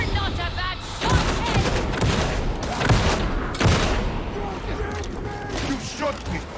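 Bursts of gunfire in Warhammer 40,000: Darktide crack out loud and close in irregular volleys, mixed with in-game voices talking over the combat.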